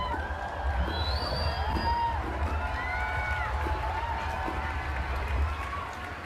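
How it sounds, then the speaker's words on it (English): Crowd cheering and shouting in a Minecraft setting, a sustained roar of many voices with whoops and rising shouts, loud and steady throughout. "Yeah, there it is. There's the cheering."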